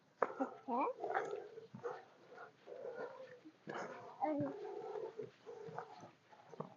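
Several dogs bark and yip intermittently at close range, mixed with frequent adult talk and a voice throughout.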